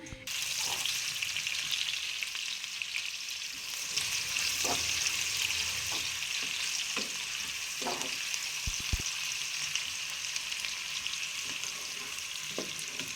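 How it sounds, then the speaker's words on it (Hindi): Chopped onions frying lightly in ghee in a pan for a mixed vegetable dish, with a steady close sizzle and occasional stirring clinks throughout. "अभी प्याज को मैं फ्राई कर लेती हूँ। हल्का फ्राई इसको करना है"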